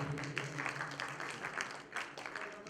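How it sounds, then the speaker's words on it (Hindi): Audience applause at a live music show, a continuous wash of clapping from a crowd heard at moderate level throughout. "जोरदार तालियों से स्वागत कीजिएगा।"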